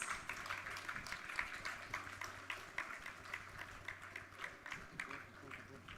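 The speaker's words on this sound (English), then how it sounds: "Kindly give him a big round of applause." Conference attendees clap for a departing honored guest, a fairly quiet, uneven patter of hands from a moderate crowd, with a low hum and a bit of background chatter underneath.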